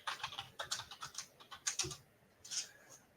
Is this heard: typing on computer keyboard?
yes